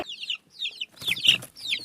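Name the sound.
chick cheeping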